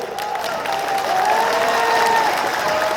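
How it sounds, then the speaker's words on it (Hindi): Audience applause at a Bharatiya Janata Party political gathering in Bihar for a local leader: sustained, fairly loud clapping from a crowd, with a faint voice carrying underneath. "जोरदार ताली हेबाक चाहिए"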